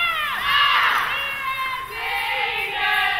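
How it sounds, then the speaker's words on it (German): Crowd in a sports hall in Kupferdreh cheering and shouting after a women's indoor hockey match, high excited voices, including children's, in a loud continuous roar with swelling peaks. "Jetzt folgte, war Jubel pur hier in der Sporthalle Kupferdreh"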